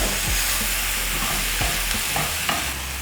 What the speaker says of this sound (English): I'll let this cook until the tomatoes cook through.